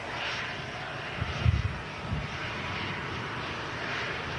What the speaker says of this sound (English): this EasyJet A320 with the sharklets